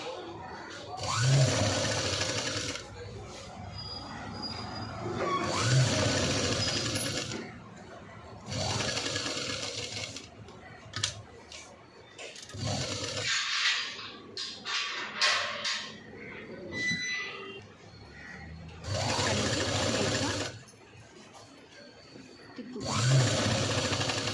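A sewing machine stitches the front panel of a V-neck princess-cut blouse in repeated bursts of steady mechanical whirring, with short pauses between runs and quiet background sounds.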